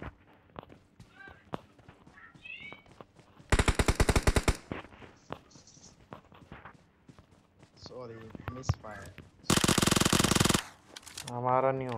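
Two bursts of rapid MK-14 rifle fire in the BGMI mobile battle royale game, loud and dense, separated by footsteps, movement sounds and a player talking.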